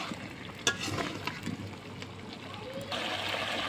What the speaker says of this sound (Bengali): কষে নেব গোস্তগুলো।